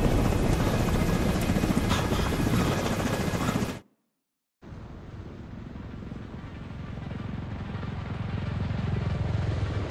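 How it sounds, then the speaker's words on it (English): Extraction helicopter in the shooter game The Division 2, a loud steady rotor roar that cuts out abruptly for about a second, then returns slightly softer and swells again, with no voices. "get Chernenko on that extraction chopper now"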